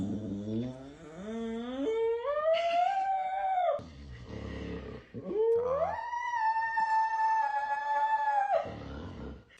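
A dog howls in two long, rising then sustained tones, close and loud, with a short pause and breath between them and no talking.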